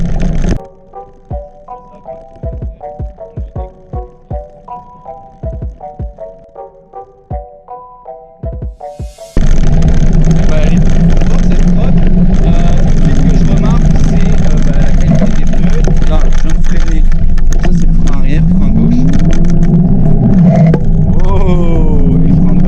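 HIKERBOY BRIO electric scooter riding over gravel, a loud, continuous rough crunching rumble that starts abruptly partway through, after a short run of separate tonal notes.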